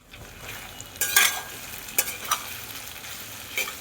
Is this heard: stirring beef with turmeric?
yes